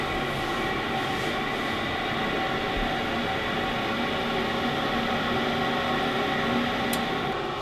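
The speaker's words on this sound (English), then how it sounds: "Wait for it to fire here again." A newly installed gas furnace runs with a steady, loud rumbling roar and broadband whoosh of burners and air, holding constant through the clip with a brief click near the end.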